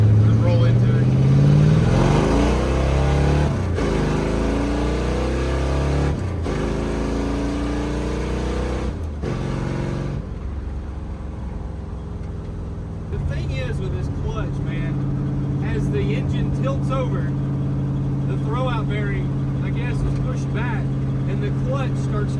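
A Dodge Dart V8 with a four-speed manual accelerating at a drag race: a loud engine roar climbing in pitch, dropping after a shift, then droning steadily at high revs while someone talks over it.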